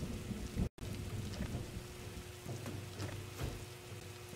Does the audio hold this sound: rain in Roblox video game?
yes